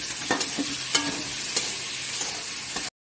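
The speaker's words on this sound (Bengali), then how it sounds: "এখন আমরা টমেটোটা দিয়ে দেবো।" Tomato tossed into frying onions in a pan, with a steady sizzle and several distinct stirring scrapes spread across the clip, close and fairly loud, ending abruptly.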